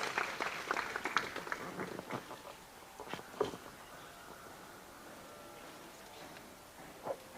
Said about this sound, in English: Give her a hearty clap as she comes.